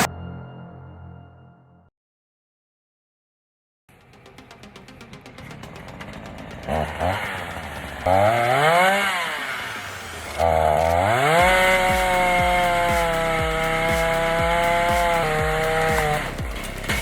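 Chainsaw cutting into tree wood, with a short silent gap early on, then the engine revving and bogging in rising and falling pitch sweeps, loud and close, with some voices briefly mixed in.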